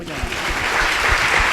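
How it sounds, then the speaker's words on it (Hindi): Congregation clapping hands during a Christian worship service, a short lively burst of applause at close range. "ताली बजाइए"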